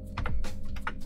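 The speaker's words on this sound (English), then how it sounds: "That's why I'm typing it twice" Keys clatter on a computer keyboard in quick close bursts as a Linux terminal command is typed out, sharp clicks over a steady low hum.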